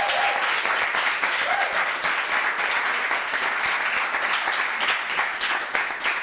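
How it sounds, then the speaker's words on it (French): A studio audience applauds loudly and steadily for contestants on a French television competition show, dense continuous clapping from start to finish with no talk. "On applaudit encore très fort pour eux."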